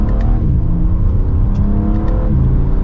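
A 2023 BMW M3 Edition 50 Jahre accelerates hard from second gear, its engine droning loud and steady with rising pitch and a brief dip at a gear change, heard from inside the car.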